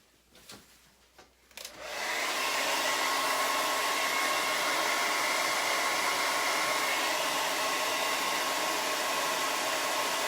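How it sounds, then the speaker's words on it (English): After a few faint clicks and shuffles, a hair dryer switches on to dry paint and blows with a steady, loud whooshing hum that continues to the end. "I may have to get a hairdryer after this, or we're going to be here all night."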